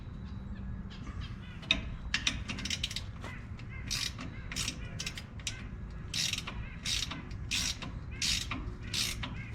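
Wrench ratcheting while torquing trailer bolts, a series of fast clicking ratchet bursts in several repeated strokes, fairly close, over a faint background with birds.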